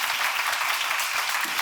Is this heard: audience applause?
yes